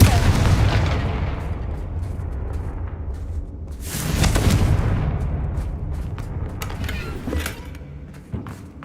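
Confringo blasting curse going off in a Harry Potter video game, a loud rumbling burst in the middle that leaves crackling, creaking debris and scattered clatter behind it, heard without speech.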